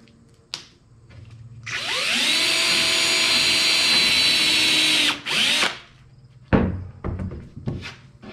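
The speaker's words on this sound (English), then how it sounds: "Keep it flat and keep it so it isn't moving around as I drill the holes" A power drill whirs steadily for about three seconds, pitch sagging as it bites into a wooden workbench, then a short second burst, followed by clunks and knocks.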